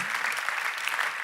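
A church congregation claps together in a dense, steady burst of applause filling a large hall, continuous and fairly loud with no talking.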